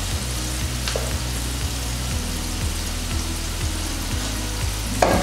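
Mutton sizzles and fries steadily in a pan as it is stirred into pulao rice for biryani, a dense continuous crackle with a low rhythmic thumping underneath and no talking.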